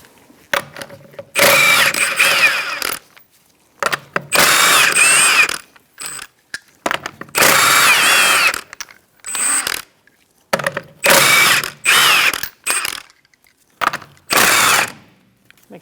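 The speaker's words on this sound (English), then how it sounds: "Using a 21mm socket, we're going to remove our lug nuts to remove our wheel." A 21mm socket removes rear wheel lug nuts on a 2004-2009 Mazda 3, heard as a series of loud, close, mechanical whirring bursts of a few seconds each, separated by brief silences, with no talking.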